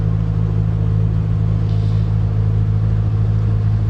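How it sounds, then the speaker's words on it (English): Steady wind buffets a microphone outdoors in the English countryside, a loud constant low rumble without gusts or pauses and with no talking. "I can only apologise for the wind."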